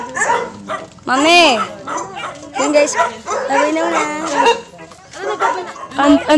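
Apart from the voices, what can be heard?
many dogs barking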